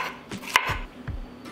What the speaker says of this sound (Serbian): Treba mi jedna sveža paprika koju ću očistiti od semena i iseckati na manje komade.